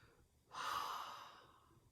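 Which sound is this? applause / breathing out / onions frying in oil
breathing out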